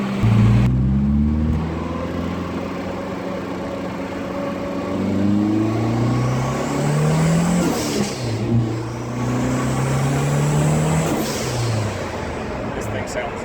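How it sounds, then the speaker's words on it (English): A turbocharged four-cylinder Foxbody Mustang engine runs close by, idling and rising through several revs with shifting tones, loud and steady, with a speaking voice faintly over it. "Mustang sounds good."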